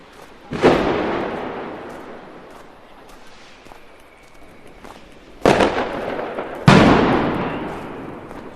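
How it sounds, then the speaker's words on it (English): Fireworks bursting on a Berlin street corner in Schöneberg, with a loud nearby bang followed by two more sharp blasts later, each trailing off into crackling, echoing street ambience. "Small groups around with fireworks"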